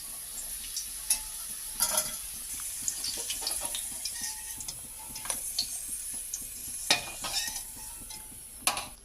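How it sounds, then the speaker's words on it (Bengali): Potatoes frying in oil with a little turmeric give a soft sizzle, with scattered scrapes and clinks as they are stirred and lifted out of the pan. "আলুগুলো ভাজা হয়ে গিয়েছে, এবার আমি তুলে নিলাম"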